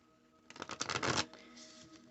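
A single close burst of tarot card shuffling, a quick papery riffle lasting under a second amid otherwise quiet room tone.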